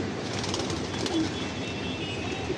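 Pigeons in a large loft setup in Mumbai coo softly and continuously over a low, noisy background, with no speech.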